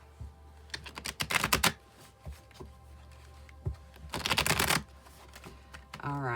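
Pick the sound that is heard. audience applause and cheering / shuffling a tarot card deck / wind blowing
shuffling a tarot card deck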